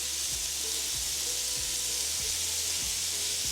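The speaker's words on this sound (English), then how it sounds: "we're flipping our steaks to make sure we get a nice even sear and crust on them" Sirloin steaks sear in a hot pan after being flipped, a steady, dense sizzle with no break that holds level for the whole stretch, close and fairly loud.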